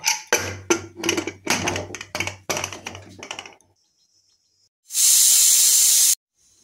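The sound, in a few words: pressure cooker hissing steam while boiling khesari dal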